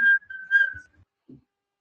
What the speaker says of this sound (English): Please don't whistle in the class.